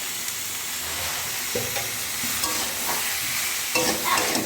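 Spices with salt and turmeric sautéing in a pan for bata fish and potato-plantain curry, a continuous sizzle with repeated scraping stirs of a spatula, up close and without speech.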